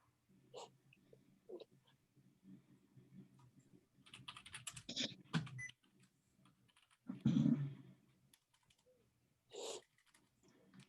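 An address is typed on a computer keyboard in short bursts of quiet, close key clicks with pauses between, and a few louder clatters and thumps stand out.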